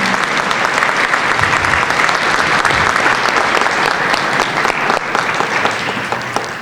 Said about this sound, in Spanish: Así que aquí está el maestro José Saavedra, le damos un aplauso, que ya lo conocían.